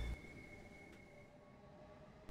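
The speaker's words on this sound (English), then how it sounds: "The sounds are very good, ranging from the iconic traction motors to even the clunk of the throttle as you change notches." Electric traction motors hum steadily on a Southeastern high-speed train in Train Sim World 3, a quiet rail rumble with a faint tonal whine and soft clunks at the start and end.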